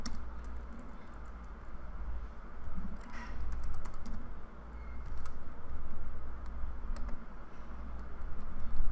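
A username is typed on a computer keyboard: rapid, fairly faint key clicks in uneven runs over a steady low hum, with no talking.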